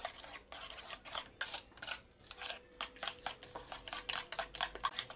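Egg batter with ginger-garlic paste, turmeric and salt whisked in a bowl for a bread omelette: quick, repeated clicking and scraping strokes of a utensil against the bowl in an uneven, steady rhythm, close and fairly soft, with no voice.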